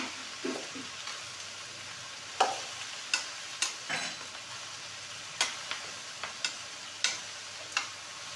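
Ivy gourd pieces fry in oil, a faint steady sizzle broken by a series of sharp clinks and scrapes as a spoon stirs the pan.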